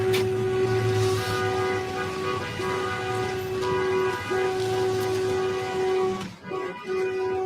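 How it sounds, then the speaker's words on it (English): Car horns blare in long sustained honks at an anti-ICE street protest, overlapping and continuing almost without pause, with one brief break near the end amid traffic noise. "That's why you're hearing all the horn honking."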